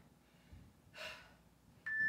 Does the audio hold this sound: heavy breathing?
yes